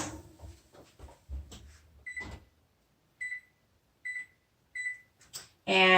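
Beeps from an oven timer being set while baking a double chocolate banana cake: four short, evenly spaced electronic tones follow some clattering and handling noise, and a louder tone comes at the end.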